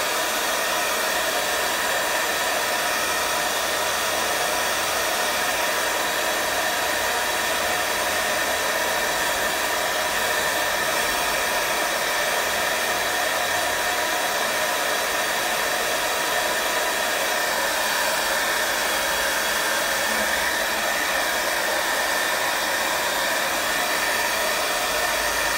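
Hair dryer blowing steadily on a watercolour painting of a field of flowers, a loud, continuous broadband whoosh that holds unchanged for the whole stretch with no voices.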